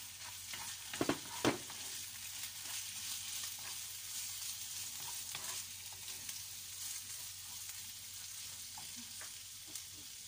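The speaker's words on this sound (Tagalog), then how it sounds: "ilagay na natin si corn beef at saka yung egg" Corned beef and egg fry in a pan with garlic and onion, giving a steady, fairly quiet sizzle with a few sharp crackles and pops near the start.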